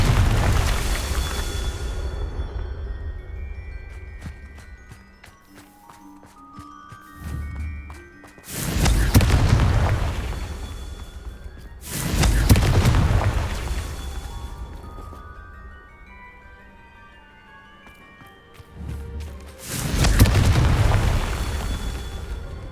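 Loud booming blasts of the Confringo fire spell in the game Hogwarts Legacy, three or four heavy explosions spaced a few seconds apart, each rolling out into a low rumble, with crackling magical sparkle between them.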